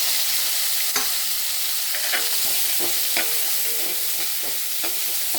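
Chopped vegetables for semiya upma sizzle in a hot pan, a constant frying hiss broken by several scraping stirs of a spoon, close and without talk.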